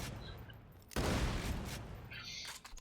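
A Torgue Landscaper shotgun goes off in Borderlands 2 with a sudden loud blast, followed by a sustained crackling roar of explosions that slowly fades, with no talking.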